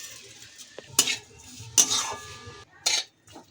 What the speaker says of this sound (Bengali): পনিরটা দিয়ে ভালো করে নেড়ে চেড়ে নিয়ে নিচ্ছি